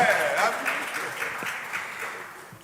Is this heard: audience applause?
yes